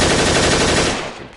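An MP5A3 submachine gun fires a single continuous rapid burst in the virtual reality game Gun Club VR, loud and dense, then trails off quickly.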